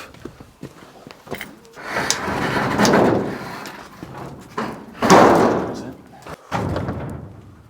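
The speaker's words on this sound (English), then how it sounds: "So that's the first time the door has been open in several decades." An old barn door, shut for decades, is pushed open with thuds, bumps and scraping rumbles in uneven bursts, heard close by while people talk quietly around it.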